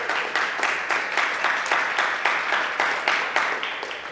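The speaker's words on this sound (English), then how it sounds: "Give her a big round of applause." Audience applauding a woman called up at a brand-launch training event, steady broadband clapping with a pulsing rhythm, sustained and fairly close throughout.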